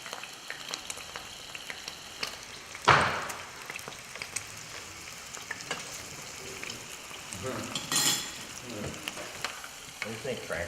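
Boiled potatoes fry and brown in a pan with a constant crackling sizzle. Occasional louder scrapes and clatters come from stirring, with only brief faint voices in the background.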